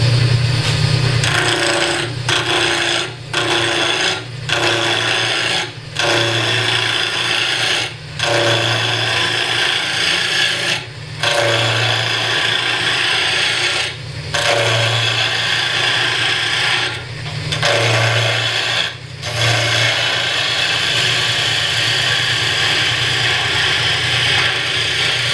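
A wood lathe spins at about 1500 rpm, turning a piece mounted on an off-center jig. A continuous loud hum carries a steady rasping cut, broken by brief regular dips as the tool lifts off the wood.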